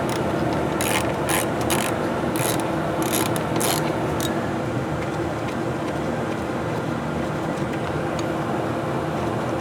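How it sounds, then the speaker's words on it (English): Socket ratchet with a 17mm socket working the battery terminal on a 2003-09 Kodiak/Topkick truck, giving quick bursts of clicking and rasping over a steady mechanical hum, close and fairly loud, with no talking. "To disconnect the battery, I'm going to use a 17mm socket."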